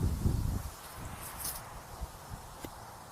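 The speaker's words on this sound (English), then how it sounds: "It's really fucking windy out" Gusty wind buffets the microphone with loud low rumbles, strongest at the start and easing into intermittent bursts.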